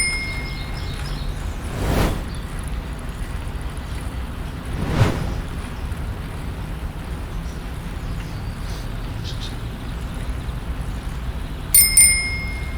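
A Bixi bike-share bicycle bell rings with a bright metallic ding twice in quick succession near the end, clear and close over a faint background hiss.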